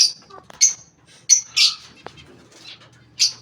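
Caged pigeons, a breeding pair, giving short sharp chirping calls at irregular intervals, close and clear against a quiet background.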